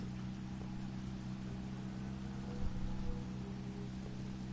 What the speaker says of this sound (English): I still hear the stinking rain.